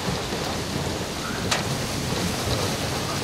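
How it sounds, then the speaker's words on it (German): A dense, heavy downpour roars steadily during a supercell thunderstorm near Nördlingen, Germany, with a brief sharp crackle of thunder partway through; no voices. "Wieder kommt ein dichter Schwall Regen vom Himmel."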